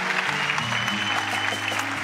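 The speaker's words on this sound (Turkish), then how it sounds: "komşular, siz niye alkışlıyorsunuz?" An audience at a Turkish comedy stage show applauds steadily, a dense, even wash of clapping that holds for the whole moment with a low hum underneath.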